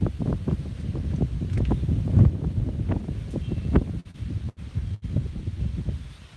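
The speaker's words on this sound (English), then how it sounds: "Oh, it's super windy." Strong wind buffets a microphone outdoors, a continuous low rumbling roar with gusty surges and brief dropouts, loud and close throughout.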